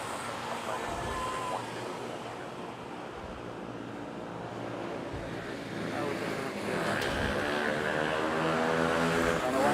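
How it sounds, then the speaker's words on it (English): A Philippine Airlines Airbus A321 airliner at Manila airport gives a continuous broadband engine roar that swells gradually louder, steady and fairly near, with no talk over it. "This one, A321 Philippine Airlines for Bangkok."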